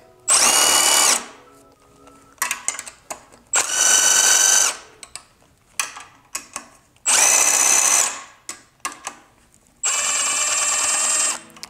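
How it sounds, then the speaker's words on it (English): A power tool, likely an impact driver or drill, spins out 10mm bolts from the oil pickup of a Honda B16 engine during teardown, four loud whirring bursts of about a second each, separated by quieter clicks and handling clatter. "So I do have 4 10mm bolts to remove."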